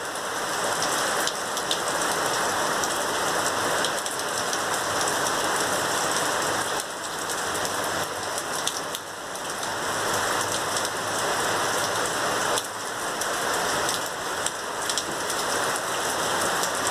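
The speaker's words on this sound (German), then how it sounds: "weil es regnet hier zu stark" Steady, dense downpour of heavy thunderstorm rain in Ingolstadt hissing on surfaces, continuous and close throughout with no voices.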